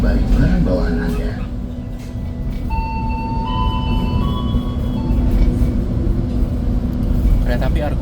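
The Argo Anjasmoro train arrives at Bekasi station with a steady rumbling drone throughout, while a station announcement voice and chime-like tones sound over it.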